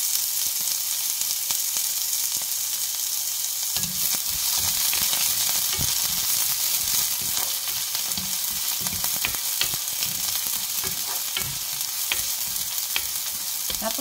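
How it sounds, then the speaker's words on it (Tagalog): Garlic and onion sauté in hot oil in a pan, a steady bright sizzle that jumps louder around four seconds as the onion goes in, with scattered stirring clicks and scrapes throughout. "Ilagay na natin yung ating garlic. So, magigisa tayo. So, lagay na rin natin yung ating onion."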